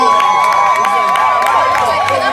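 A lively audience at a talk claps and cheers on request, a dense, steady wash of crowd noise with scattered sharp claps and voices, loud and close throughout.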